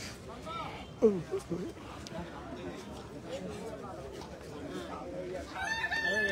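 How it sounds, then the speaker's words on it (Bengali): Chickens of various breeds cluck and a rooster crows amid the general bustle of a cattle market in Bangladesh, with faint background chatter and the bird calls mixed into the noise. "বিভিন্ন জাতের মুরগি আসছে।"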